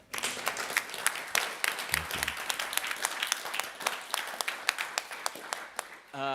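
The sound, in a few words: audience applause for the organizers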